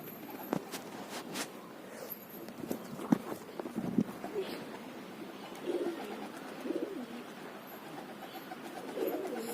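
Pigeons coo in low, soft, repeated calls close by, with faint background noise and occasional quiet human voices.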